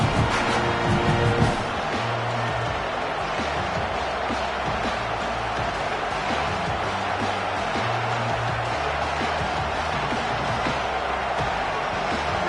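A large football stadium crowd at a Falcons game keeps up a dense, steady roar of cheering, loud and distant-sounding, with a sports commentator talking over it and a brief louder burst at the start.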